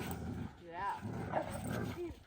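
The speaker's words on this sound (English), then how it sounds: "What are you barking at" A dog barks outdoors in snow, several short barks and yips, mixed under a person talking nearby.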